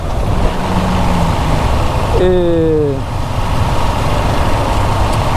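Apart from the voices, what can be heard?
KTM 690 SMC R single-cylinder motorcycle engine running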